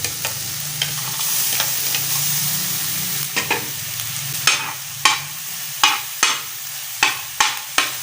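Green chilies sizzle in a hot pan under a steady hiss, followed by a string of sharp spatula scrapes and taps at a regular pace toward the end.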